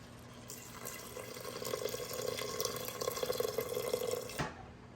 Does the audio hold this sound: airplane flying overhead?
no